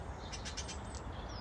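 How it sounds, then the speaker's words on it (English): Budgies in an outdoor aviary give a few faint, quick, high chirps over a steady background hiss. "And then you've got this little you've got this aviary. You can see the budgies in there"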